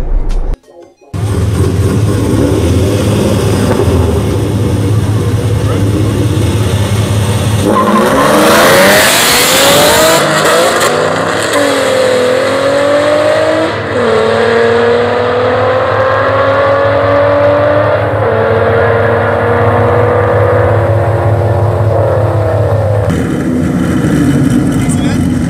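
Full bolt-on 3.7 car on street tires launching up close, a loud idle and rev build-up, then hard acceleration with rising engine pitch through several gear changes before fading, with some talk.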